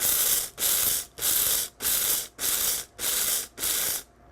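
Food processor pulsing rice toward a grits-like texture: seven loud, even whirring bursts of about half a second each, separated by short silent gaps, close up with no talking.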